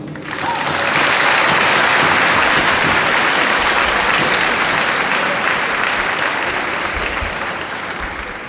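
Sustained, loud applause from a large audience at a televised ceremony swells quickly and rolls on evenly for over eight seconds before tapering a little.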